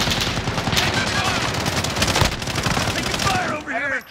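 Dense automatic and rapid gunfire from a Call of Duty: Modern Warfare match, a loud continuous fusillade of machine-gun bursts that fades near the end as a voice briefly speaks.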